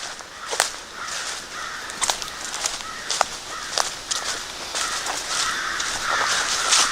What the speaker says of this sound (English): I keep getting yelled at by the crows.